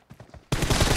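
A sudden burst of loud gunfire erupts halfway through a team deathmatch battle in a video game, following quieter rhythmic taps, then sustains as a dense, close barrage to the end.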